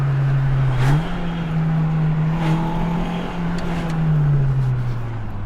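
JDM drift car set up for track accelerating on a street, heard from inside the cabin: a steady engine drone that climbs in pitch after a shift, holds, then eases off, fairly loud and with no talk.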